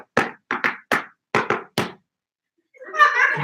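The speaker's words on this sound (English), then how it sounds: "I heard a knock at the door" Six sharp knocks rap on a door in an uneven, fancy rhythm, loud and close, followed by a brief silence and then a short burst of voices.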